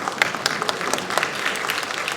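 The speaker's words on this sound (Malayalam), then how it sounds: "വ്യാസഭായി ഭായി കൈയടി വാങ്ങിച്ചിട്ട് പോകും പ്ലീസ്" Steady applause from a crowd, dense clapping throughout with no voices on top.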